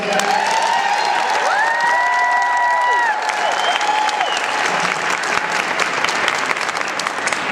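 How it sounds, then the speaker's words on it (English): A loud round of applause at a wedding for the mother of the bride, with cheering and whoops in the crowd and some sustained tones ringing over the clapping in the first few seconds. "Can we get a round of applause for the mother of the bride?"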